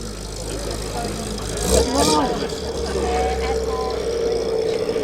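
A classic MGB pulls away from a classic car show at Gawsworth Hall, its engine a steady low rumble that swells and carries on under people talking nearby and the general crowd murmur.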